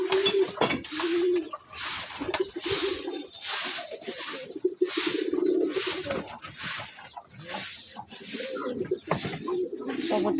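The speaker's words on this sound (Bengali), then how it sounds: "আমাদের নিজেদের বাড়ির কবুতর" Pet pigeons at a home coo repeatedly in low, throaty rolling calls, close and fairly loud, with pauses between bursts over a steady outdoor background.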